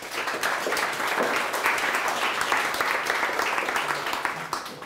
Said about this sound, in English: Please, send him applause for this man.